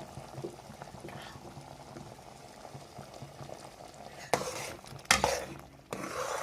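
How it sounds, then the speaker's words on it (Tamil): Hot water poured into sugar in a pot while making pineapple rava kesari, a rushing pour with bubbling liquid that starts after a quiet simmer and comes in two or three bursts toward the end. "சுட வச்சேன் பார்த்தீங்களா அந்த 3 கிளாஸ் தண்ணி, அதை சூடாக எடுத்து அப்படியே இதில் ஊற்றணும்."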